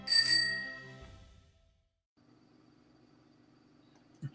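Single bright bicycle-bell-style ding used as a sound effect, loud and ringing out briefly before fading into near silence.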